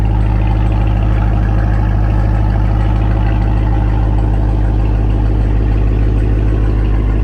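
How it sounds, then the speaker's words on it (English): A Ram TRX pickup truck engine with AWE exhaust idles warm and steadily with a deep, even rumble and low thrum, loud and close, unchanging throughout. "Here's a quick clip of the warm idle."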